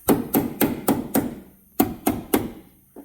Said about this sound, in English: I'm going to try to hammer this thing off of here